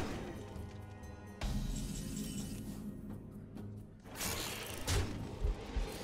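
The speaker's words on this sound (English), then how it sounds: "Pretty unlucky, only getting one bomb explosion" A bomb explodes in the card game Hearthstone with a sudden crashing burst over a busy mechanical game soundscape. A second swell of impact noise follows a few seconds later.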